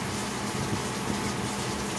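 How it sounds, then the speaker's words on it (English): Hot tap water runs steadily over a butter spoon in a home kitchen, a continuous close gushing stream with no talk over it. "I'm just going to clean it off with a little bit of hot water."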